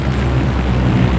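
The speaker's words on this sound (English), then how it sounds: "First up is a medley of frontline helicopters from Apaches to Sea Kings and Chinooks" Frontline military helicopters, Apaches, Sea Kings and Chinooks, fly overhead at a flypast, producing a loud, continuous rotor thump and engine roar that stays dense and steady throughout.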